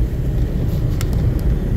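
Dense, loud, continuous traffic rumble from many vehicles on a busy road near Rizal Park in Manila, with a steady low roar and a brief higher whine in the middle; no one speaks.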